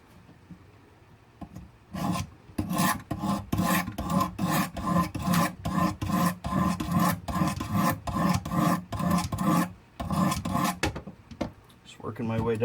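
A knife blade is sharpened on a Wicked Edge sharpener with a long run of steady, rhythmic rasping strokes, close and fairly loud, each pass a short gritty scrape repeated over and over.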